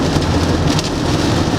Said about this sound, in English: Hot rain, innit? The rain's warm.